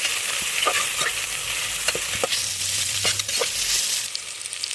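Food frying in a pan gives a steady, close sizzle, punctuated by scrapes and knocks of a spoon stirring, with no talking.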